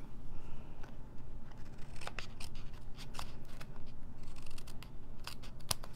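Scissors snip along the edge of a stamped cardstock card panel in a papercraft project, a string of sharp close cuts, a few clusters of quick snips over a steady low room hum.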